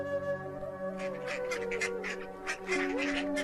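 Cartoon ducklings quack by a pond in a steady run of soft, nasal calls over a tonal background score, fairly quiet and without talking.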